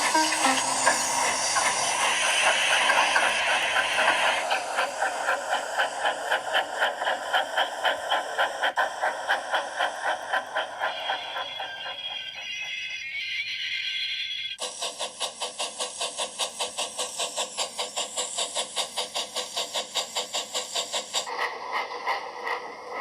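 Steam engines puffing along in rhythmic, evenly spaced chuffs whose pace and tone shift partway through, like two locomotives working together, heard alone without any voices.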